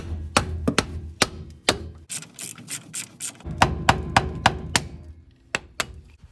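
Hammer blows knocking a brake caliper bolt loose on a car's wheel hub, a dozen or so sharp metallic whacks in irregular bursts, close and loud with ringing clanks between strikes.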